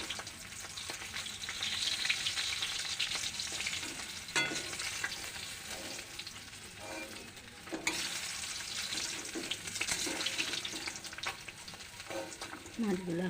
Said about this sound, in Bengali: যেহেতু জ্যান্ত মাছ তো আমি হালকা ভাজবো,